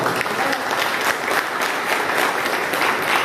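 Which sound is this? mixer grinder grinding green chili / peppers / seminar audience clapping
seminar audience clapping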